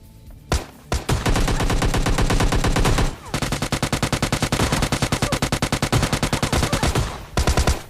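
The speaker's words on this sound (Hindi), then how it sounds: "वो जो लास्ट में जो शॉट मारा ना मैंने" Gunfire in the PUBG battle royale video game cracks out in a single shot, then long rapid automatic bursts, a brief pause, and more loud machine-gun rattling, close and dominant without speech.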